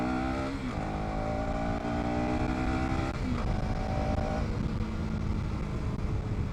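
KTM Duke 250 motorcycle accelerating on a city road, its engine note climbing steadily through the gears with brief dips at each shift, loud, close and continuous, with no talking.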